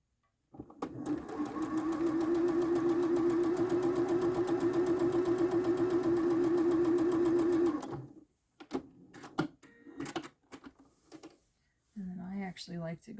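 A sewing machine stitches a Halloween-themed quilt in one steady, close mechanical whir for several seconds, then stops, followed by clicks, handling noise and a voice.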